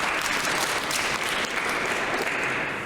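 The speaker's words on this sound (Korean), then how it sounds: "박수로 환영하겠습니다" Congregation in a Korean church in Berlin applauds during Sunday worship to welcome back a deacon and his family, a steady dense wash of many hands clapping throughout, close and fairly loud, with no voices over it.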